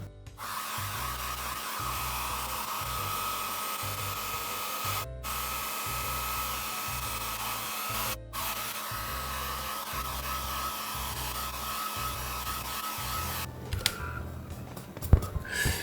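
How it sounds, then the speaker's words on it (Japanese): A hair dryer runs steadily for about fifteen seconds, drying a watercolor painting. Its rushing whir stays loud and close and is broken by two brief cutoffs, with no talking over it. "ちょっと乾いたら無駄な線を少し消しますね。"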